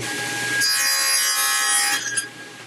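Hand saw cutting into wood for a castle joint: a near, loud rasping stroke that builds over a second or so, holds steady, then tapers off into a few softer scrapes.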